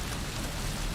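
Heavy rain during a windy landing at St. Maarten in the X-Plane 12 flight simulator, with an Amerijet 757 freighter, roars as a loud, dense, unbroken wash that completely swamps any engine sound.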